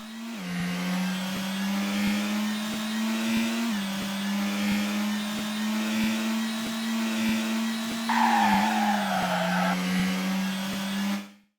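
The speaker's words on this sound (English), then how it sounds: "The Duster now has a different engine sound." A synthetic engine sound for a Duster car in the racing video game Racing Life drones at a steady pitch, shifting up and down in small steps like gear changes, with a brief burst of rougher noise near the end.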